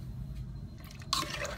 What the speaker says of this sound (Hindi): इसमें मैं पानी ऐड करूंगी, तकरीबन 1/2 liter जितना पानी ऐड करेंगे।